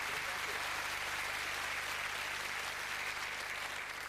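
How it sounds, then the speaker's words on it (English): A studio audience at a 1993 BBC game show applauds a contestant team, even and continuous clapping filling the room for about four seconds at moderate distance. "That red team, give them a nice round of applause."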